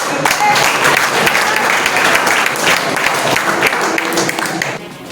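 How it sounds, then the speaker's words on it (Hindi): Dense, loud applause from a crowd at a political meeting of Vaishya voters in Munger, continuous rapid clapping that fades slightly at the end. "हमारा परिवार अपने लिए ताली बजा लीजिए"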